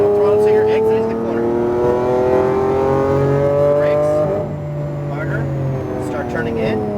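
A Lamborghini Aventador engine revs and pulls hard on a racetrack, its rising and falling drone close and loud, while an instructor's voice talks over it.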